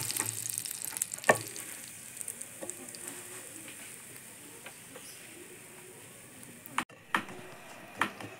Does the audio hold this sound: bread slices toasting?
yes